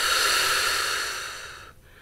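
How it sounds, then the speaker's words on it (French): A slow, steady exhale during a sophrology breathing exercise, breathy and close, fading out gradually near the end with no speech over it. "On inspire. On retient légèrement notre respiration. Et en soufflant,"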